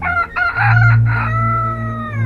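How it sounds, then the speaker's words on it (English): A rooster crows once in a long drawn-out call, loud and close, with rising and sustained harmonic tones and no voices over it. "were awakened by the crowing of a green cock"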